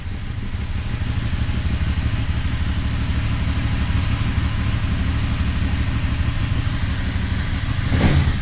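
An Aprilia Dorsoduro 1200 motorcycle engine idles close by with a steady, even throb throughout, then a brief hissy burst near the end.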